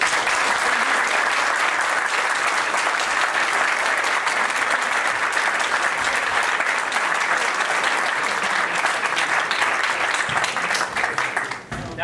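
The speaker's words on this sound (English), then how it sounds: "About a nice round of applause for Darrell Voss." A jazz piano showcase audience gives a rhythm-section player a loud, dense round of applause that stays strong for about twelve seconds before starting to taper off at the end.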